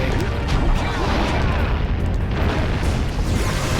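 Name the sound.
boulder being shot in video game Jak and Daxter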